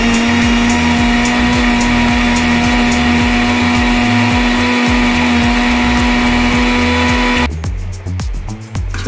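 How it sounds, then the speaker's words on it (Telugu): A mixer grinder whirs loudly, blending Malaysian oranges from Kerala with two glasses of water, a steady motor drone with a high whine, then a rattling shift near the end as it winds down. "మిక్సీ జార్ని గ్రైండ్ చేసుకుందాం"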